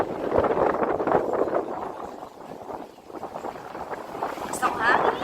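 Gusty wind buffeting the microphone on a mountain summit during a day hike, a loud, steady rumbling roar that swells and dips throughout, with people talking underneath.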